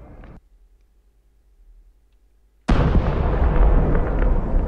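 A grenade explodes in the war video game Cries from War, a sudden loud boom after a near-silent pause, then a long rumbling roar and debris that stays loud to the end.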